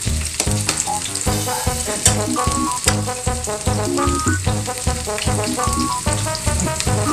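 Chopped onion and garlic frying in a pan for pancit, a steady close sizzle with dense crackling and popping that runs without a break and with no talk over it.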